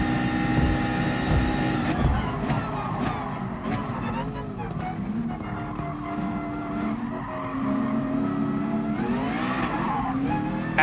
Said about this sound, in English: we just spun up the rears a little bit too much